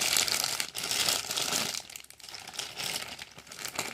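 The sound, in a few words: unwrapping packaging of a rifle scope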